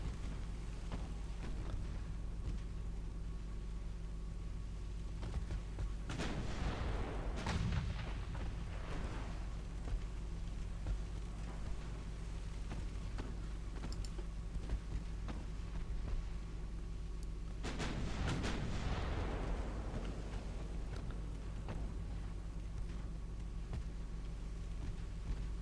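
Naval gunfire from warships in the Ultimate Admiral Dreadnoughts game, heard as two distant booming salvos about ten seconds apart, each with a rumbling tail, over a steady low engine-like hum.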